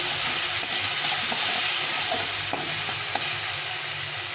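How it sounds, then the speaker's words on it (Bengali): Spices with turmeric fry and get stirred in a pan for a banana-flower ghonto, giving a steady broadband sizzle with a few soft spoon scrapes and clicks near the pan, no voices. "এটাকে এখন আবার একটু ভেজে নেব ভালো করে কষিয়ে নিতে হবে"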